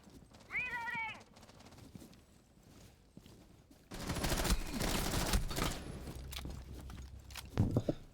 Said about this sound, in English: That was a pretty tight firefight.